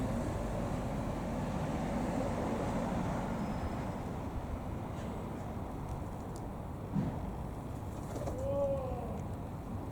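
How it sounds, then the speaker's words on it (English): Pigeons coo softly outdoors in a public spot near a lamppost, faint and somewhat distant under a steady broad background noise, with a brief clearer call near the end and no words spoken. "I love pigeons."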